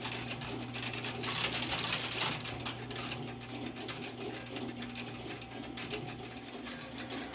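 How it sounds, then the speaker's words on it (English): A Fujitsu crossbar PBX telephone exchange frame with 40 stations runs with dense, rapid mechanical clicking and chattering over a steady electrical hum, heard up close. "This is a Fujitsu crossbar PBX."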